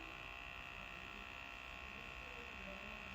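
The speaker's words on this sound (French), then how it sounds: "Aspirateur à points noirs Ecolio" Steady electric buzzing from an Ecolio pocket-size blackhead vacuum suctioning facial skin, a continuous motor hum held evenly for a few seconds before cutting off abruptly.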